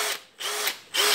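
Makita DHP480 18V cordless drill running in three short bursts of steady motor whine, close and fairly loud, with brief pauses between them.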